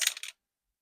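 A four-sided die clatters briefly on a hard surface, two quick rattling taps within a third of a second before falling silent.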